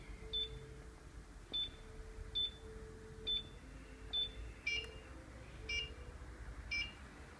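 Airsoft bomb prop timer beeping after being switched on, a faint, evenly spaced series of about eight short electronic beeps, roughly one per second, close by in a quiet room.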